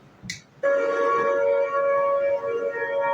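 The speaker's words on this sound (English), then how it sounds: "When emergency sirens sound, they get mixed reaction." After a short click, a civil defense siren blares in with a sustained, loud, steady wail that holds for several seconds.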